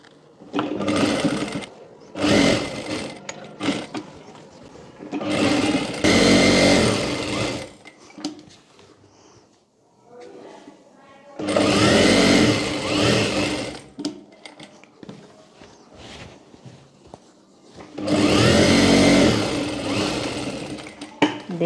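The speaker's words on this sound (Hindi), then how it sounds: "इसे हम यहाँ पर इस तरह से स्टिच कर लेंगे।" Sewing machine stitching a cargo trouser pocket onto a small child's trousers in loud, rapid bursts of whirring, several seconds each, with short quiet pauses between runs.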